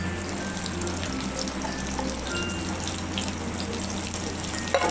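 Onion dropped into a pan of hot oil gives a soft, even sizzle with a low hum running underneath, steady throughout.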